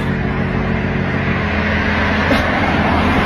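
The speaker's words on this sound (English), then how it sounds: "There's like cars going by." Cars passing on a nearby road, a loud, continuous rushing of tires and engines that swells slightly as vehicles go by, with no talking.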